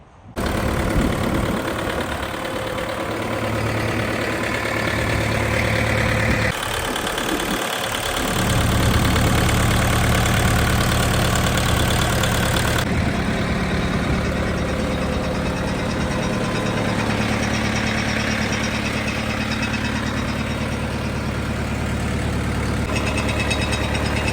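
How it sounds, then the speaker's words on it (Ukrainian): A Jinma 404 40-horsepower tractor diesel engine idles steadily and loudly up close, a constant low rumble with a rough, knocking chug that never lets up. "Демонструю роботу двигуна та світлових приладів."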